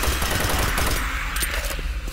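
Shotgun blasts from the video game Doom 3 fire repeatedly in dense, loud succession, layered over a rumbling game soundscape.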